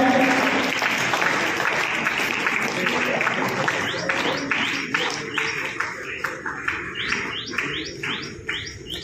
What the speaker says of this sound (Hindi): ये तालियों की आवाज पे रुक रही है